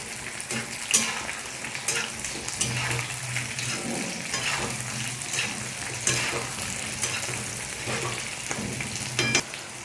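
Sliced tomatoes fry with a steady sizzle in a pan, while a spoon scrapes and clinks now and then as they are stirred, close and continuous with no talking.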